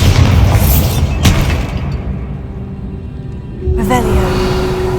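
A Bombarda spell bursts in the video game Hogwarts Legacy, a loud deep boom with a sharp crack, followed by rumbling debris and a second heavy impact near the end.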